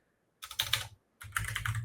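Two quick bursts of typing on a computer keyboard, close and crisp key clicks separated by a short pause.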